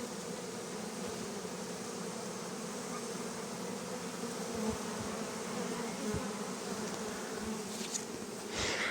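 A steady, dense buzzing of many honeybees around a hive, some carrying pollen, hums continuously, close and fairly loud, with no voices.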